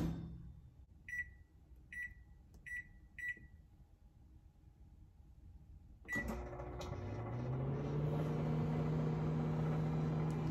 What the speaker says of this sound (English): We are going to microwave this batter for 1 minute.